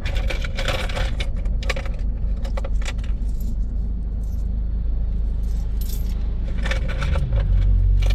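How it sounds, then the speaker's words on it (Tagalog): Coins tossed from a moving car during a long road trip from Matnog to Manila, several metallic jangling clinks scattered over a steady engine and road rumble, close and fairly loud. "So hinahagis lang yung barya dito,"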